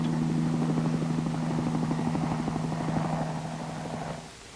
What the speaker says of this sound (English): The helicopter gets enough velocity of airflow by rotating its blades